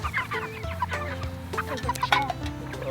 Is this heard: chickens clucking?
yes